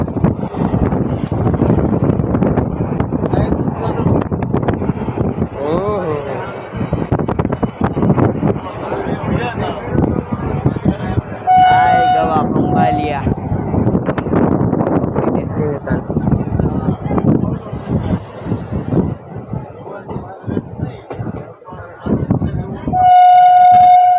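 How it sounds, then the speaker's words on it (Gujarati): A train rumbles in close by with clattering wheels and wind buffeting, voices nearby, and a loud horn blast near the end. "ટ્રેન આવી"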